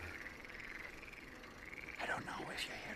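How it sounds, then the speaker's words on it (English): Frogs croak in a group on a dark evening outdoors near Amsterdam, a steady far-off chorus that grows busier and louder toward the end, with soft background noise and no clear talk. "I don't know if you hear the frogs in the background."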